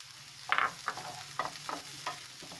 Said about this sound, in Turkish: Güzelce soğanlarımı kavuracağım. Hemen biberlerimi de koyuyorum